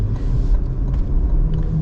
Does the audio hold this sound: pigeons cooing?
no